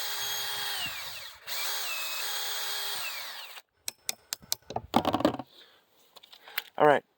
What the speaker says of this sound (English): I can go ahead and drill my taps